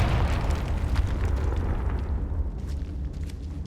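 A Confringo spell explodes in Hogwarts Legacy with a loud, deep boom that rumbles and decays over several seconds, no voices over it.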